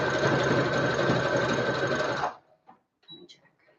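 A sewing machine stitches fabric for a Harley Quinn costume with a loud, steady whirring run of about two seconds, then stops abruptly, leaving quiet handling noises and faint murmuring.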